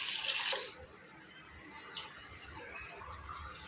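Water is poured onto soaking rice for a vegetable dum biryani, a short faint splashing burst at the start that fades into quiet kitchen background.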